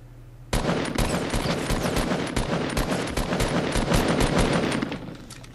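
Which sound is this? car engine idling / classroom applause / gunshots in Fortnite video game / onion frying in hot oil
gunshots in Fortnite video game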